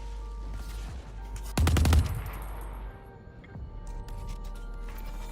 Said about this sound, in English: Some pre-firing though, revealing his position.